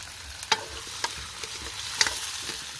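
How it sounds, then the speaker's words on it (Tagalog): Garlic and onion sautéing in a pan before shrimp go in, a steady soft sizzle with a few sharp clicks of a utensil against the pan, close and without talk. "Magigisa lang po ako ng bawang at sibuyas."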